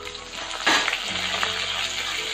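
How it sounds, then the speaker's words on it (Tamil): Dried chilies, peanuts, asafoetida and curry leaves fry in hot oil with a steady close sizzle, a louder burst of spitting as ingredients hit the pan, then continued crackling frying throughout. "இப்போ இதெல்லாம் நல்லா வதக்கி தந்துடலாம்"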